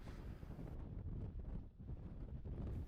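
Wind buffets the microphone in continuous rough gusts, a dense low roar that swells and dips without pause.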